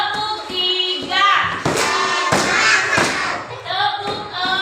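Children in an Indonesian first-grade classroom play a tepuk clapping game, a few sharp group claps and thumps landing in rhythm between loud chanting young voices.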